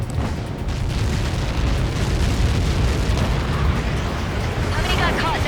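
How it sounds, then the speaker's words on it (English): A massive explosion from the Ace Combat 7 flight game's Lighthouse mission, Helios projectile impact, produces a sustained deep rumbling roar that stays loud and continuous, with crackling debris toward the end. "How many got caught in that explosion?"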